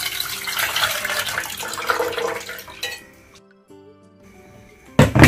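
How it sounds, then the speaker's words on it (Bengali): Soaked red lentils being rinsed in water for thalkul leaf pakoras: steady splashing and sloshing with light clinks of a pot, close, then a quieter lull before a final burst of splashing. "মুসুর ডালটাকে ধুয়ে নিচ্ছি"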